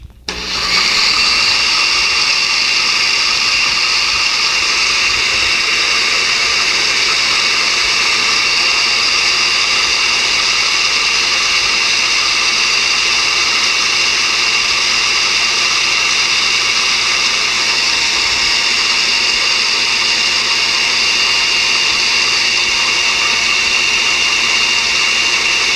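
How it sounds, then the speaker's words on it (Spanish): A kitchen blender blends water with a loud, steady whirring roar that runs without a break for nearly half a minute, close and alone. "vamos a hacer un poco de ruido aquí con la licuadora."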